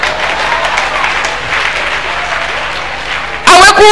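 Church congregation applauding and cheering in praise during a worship service, a steady wash of clapping and crowd noise throughout, swelling louder near the end.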